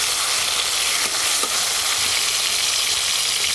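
Chopped tomatoes frying with salt in a pan for a Bengali gourd kofta dish, giving a steady, dense, loud sizzle throughout with faint stirring scrapes underneath and no voices.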